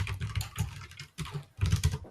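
Fingers type on a computer keyboard, close and clear, with fast clattering keystrokes in three bursts split by short pauses and no voices over them.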